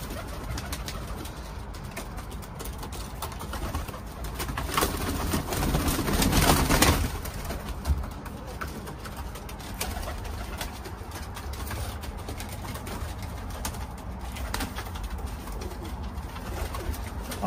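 A male Teddy pigeon coos repeatedly while circling his female, giving deep, rolling calls that swell briefly partway through, over a steady background of other pigeons.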